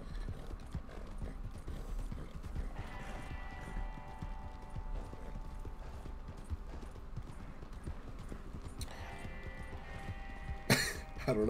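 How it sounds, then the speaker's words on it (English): A horse's hooves clip-clop steadily in a video game as the rider travels, a soft continuous rhythm with a sharp louder burst near the end and quiet speech in the background. "I'm just riding the horse."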